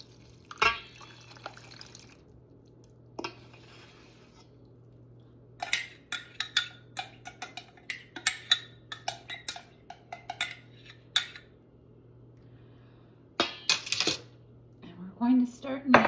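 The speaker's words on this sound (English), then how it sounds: "I'm going to stir this up and add it to my flour mixture." Honey mixture being stirred in a bowl for sourdough discard sandwich bread, then added to flour, giving faint scattered clinks and taps over a low steady hum.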